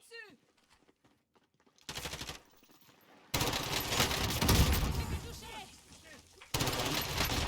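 Bursts of automatic gunfire from the video game Warzone, loud and close, coming in a few rapid sustained volleys separated by quieter gaps with faint background game noise.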